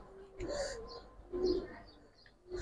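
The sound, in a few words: pigeons cooing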